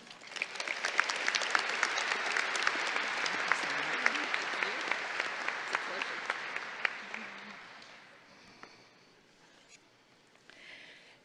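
An audience at the Tippie College of Business commencement applauds to welcome a speaker: steady, dense clapping from a large crowd that fades away after several seconds.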